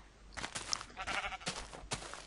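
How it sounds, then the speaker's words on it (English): Sheep in the Minecraft video game bleat several times in quick succession, fairly close and clear, with no talking over them. "there's a lot of sheep here"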